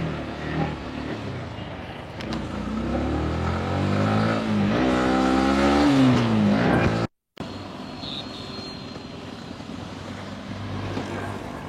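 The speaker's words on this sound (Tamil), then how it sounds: "எம்டியை வந்து இப்போ ரோட்டுக்கு எடுத்துட்டு வந்தாச்சு. ஸோ ஓட்டி காமிச்சிடலாமா மக்களே?" A Yamaha MT-15 motorcycle ridden on a road: a steady engine drone that rises in pitch as it revs and accelerates, then cuts out briefly before the hum resumes. No one speaks.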